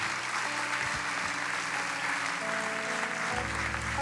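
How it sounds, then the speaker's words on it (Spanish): Church congregation applauding together after a call to praise, a steady dense wash of clapping that holds at an even level throughout. "Dale un fuerte aplauso al Señor"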